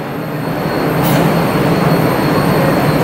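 Inside a moving Kolkata AC local train running from Sealdah to Ranaghat, a loud, steady rumble and broadband rolling roar fill the carriage continuously, with a faint brief squeal near the middle and no talk.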